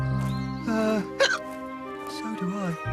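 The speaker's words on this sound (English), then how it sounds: "I hope your hiccups are gone by the morning." Cartoon fox with the hiccups, a single sharp hiccup breaking out midway through, set among talk and music from the animated scene.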